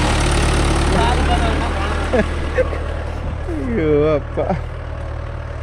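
A Mahindra Yuvo Tech Plus 585 DI 4WD tractor pulling a 9-tine cultivator runs with a steady low engine drone throughout, while someone speaks briefly and other voices are heard over it.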